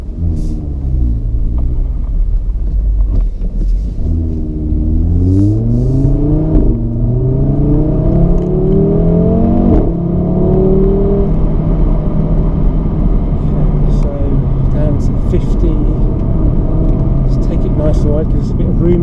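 An Audi RS3 saloon engine pulls through second gear on a slippery bend, a loud, close rumble whose pitch climbs and falls as it accelerates. Someone talks over it throughout.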